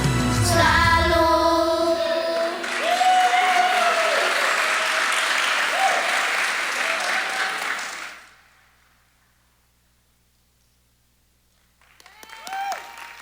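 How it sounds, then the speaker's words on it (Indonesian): A church congregation applauds loudly during a worship service, dense clapping that fades out after about eight seconds into near silence before a brief voice returns. "Boleh kasih tepuk tangan lagi untuk Rocky Sekota"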